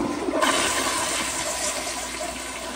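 A 2009 elongated Proflo Gilpin pressure-assist toilet flushing up close, a sudden loud forceful rush of water that holds as a steady roaring hiss.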